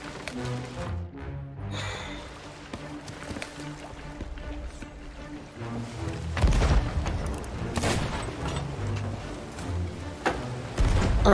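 Cannon fire aboard a ship in the Sea of Thieves video game, heavy booms and rumbling blasts striking repeatedly over churning water and game noise, louder in the second half.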